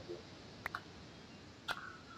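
Mouse button clicks while playing Minecraft, two or three sharp close clicks spaced about a second apart over faint background hiss.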